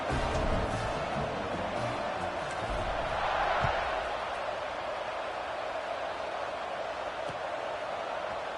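Stadium crowd noise in a college football video game during a Michigan vs Penn State matchup: a steady, broad roar of fans that holds level throughout and swells slightly midway, with no clear talk over it.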